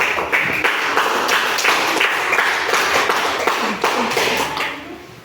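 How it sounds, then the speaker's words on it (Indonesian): Classroom children clap their hands together, a dense, lively burst of many small hands filling a room, loud and steady before trailing off at the end, with no talk over it. "teman-teman semua tepuk tangan"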